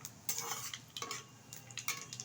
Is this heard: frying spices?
yes